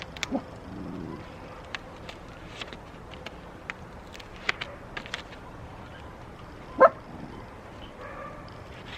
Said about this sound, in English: Sorry, my dog is having a fit because the neighbor came home and can hear its dog.